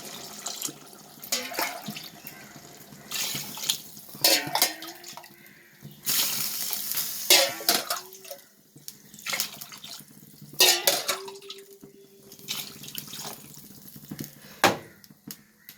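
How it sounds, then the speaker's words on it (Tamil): Water splashes and pours in several separate bursts, glass by glass, into a metal pot for tomato biryani, with brief clinks between pours and quiet pauses. "தண்ணி சேர்த்துக்கலாம்"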